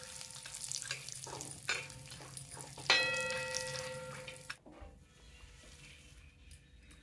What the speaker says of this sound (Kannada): ಗೋಡಂಬಿ ಬಾದಾಮಿ ಹಾಕಿ ತುಪ್ಪದಾಗ ಕರದ ತೊಗೊಳತ್ತಬೇಕು